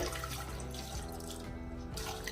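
Water pours steadily into a pressure cooker holding cut sweet potato pieces and a little salt, a close, continuous splashing gush that lasts about two seconds with no talking.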